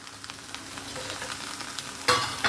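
Ghee, salt and an egg mixture sizzle and crackle in a hot pan, a steady fry noise with light stirring scrapes, swelling into a louder burst of sizzling near the end; no voices.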